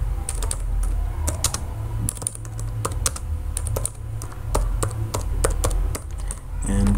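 Typing on a computer keyboard produces bursts of close key taps over a steady low hum, with short pauses between runs of keystrokes.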